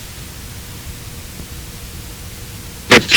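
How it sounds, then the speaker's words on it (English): A short, loud burst of broadband noise from an EchoVox3 echo unit in burst mode cuts in near the end, twice in quick succession after a stretch of low room hiss. "I'm going to go into burst mode. Echo's going, and I do my echo test, ring out the room, make sure nothing's going to feed back, and I press start"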